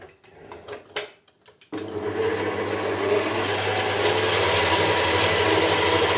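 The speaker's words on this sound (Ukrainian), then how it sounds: "Стакан цукру 250 грам і будемо це збивати." An electric mixer starts after a few faint clinks and then runs continuously, whipping eggs with a cup of sugar in a steady, loud, close whir that holds without pause.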